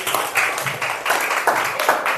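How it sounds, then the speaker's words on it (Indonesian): A classroom group claps for a presenting group, a steady patter of many hands close by, fairly loud and continuous. "Tepuk tangan untuk kelompok 6."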